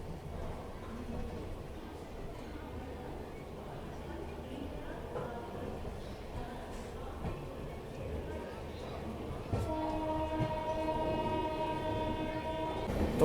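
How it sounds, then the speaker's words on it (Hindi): Mahanagri Superfast train departing Prayagraj Junction, a continuous rolling rumble of the train with faint voices, then a loud sustained horn blast sounding near the end. "चैन पुलिंग के बाद दोबारा से डिपार्चर हो चुका है अपना प्रयागराज जंक्शन से।"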